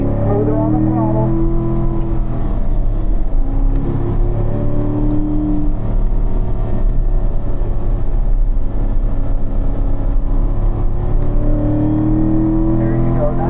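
Race car on the Spring Mountain circuit accelerates hard out of a corner, a loud sustained engine drone with shifting tones under a coach's steady voice throughout.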